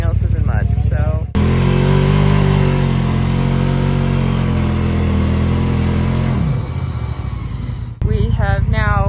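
A Razor off-road vehicle's engine revs hard and steadily for several seconds while its tires spin in deep mud, loud and close, then the engine drops off; voices talk briefly before and after.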